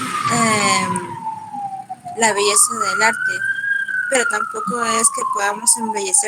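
A wailing siren rises and falls continuously outside while someone talks over it, the tone sweeping slowly up and back down across several seconds.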